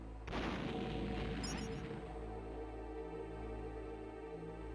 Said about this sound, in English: Luckily, the sound of that explosion didn't travel very far.